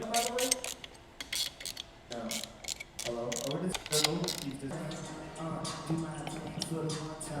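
Torque wrench clicking while tightening bolts on a 2025 Harley-Davidson Low Rider S during a Stage II upgrade, sharp metallic clicks and ratcheting in a busy cluster close up, with someone speaking over much of it.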